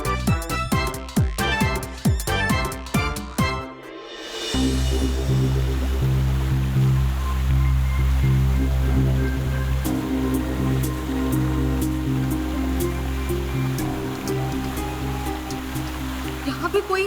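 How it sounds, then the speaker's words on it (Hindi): A waterfall in an Indian fantasy TV serial scene gives a steady rushing wash of water that runs continuously beneath loud music and voices. "इस झरने की वजह से आवाज नहीं आ रही है"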